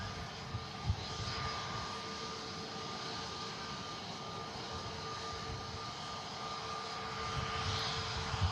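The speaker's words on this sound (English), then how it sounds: "United Kingdom government aircraft operated by Titan, just arriving in from Glasgow" A UK government aircraft operated by Titan arrives at Manchester Airport from Glasgow, its engines a steady, broad roar that holds level throughout with a faint tonal whine, heard from a distance.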